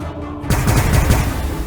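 Inferno pistols fired in the Warhammer 40k Battlesector strategy game, a sudden loud burst of rapid crackling blasts after a brief quiet moment.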